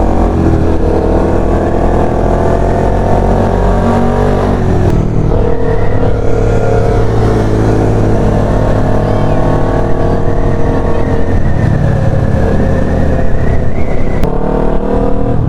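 A 1000cc sportbike accelerates hard, its loud engine roaring close and continuous with rising revs and gear changes throughout, while brief voices can be heard faintly beneath it.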